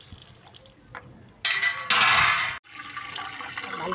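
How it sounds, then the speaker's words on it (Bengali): Water pours from a tap into a bucket during the evening supply, surging in two loud rushing bursts before settling into a steady, softer splashing stream nearby, with no talking. "এখন এই বালতিতে ভরে ভরে জল তুলতে হবে।"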